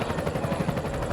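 A helicopter heard through a radio broadcast recording: a steady, pulsing rotor chop that fills the whole moment, loud and continuous with no talk over it.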